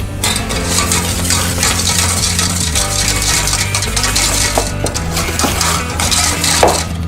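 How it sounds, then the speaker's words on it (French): Egg yolk and sugar being whisked vigorously in a bowl for a strawberry tartlet, a loud, continuous rapid clatter of whisk against the bowl, with no talking. "fouetter énergiquement afin de blanchir, comme on dit dans le jargon culinaire, le jaune avec le sucre"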